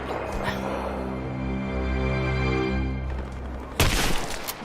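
Gunfire in the Rise of the Tomb Raider video game: a brief, loud burst of shots near the end, following a stretch of steady background game sound and low voices.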